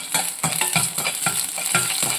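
Mustard seeds, cumin, urad dal and chili sizzle and crackle steadily in hot oil as a tempering for sprouted-bean sundal, with rhythmic scraping strokes of a stirring spoon throughout. Nobody speaks.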